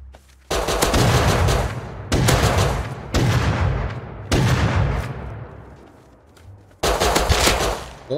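Gunfire in the video game Rust, several loud, sustained bursts of rapid automatic shots separated by short pauses, each burst dense and close, with no talking over them.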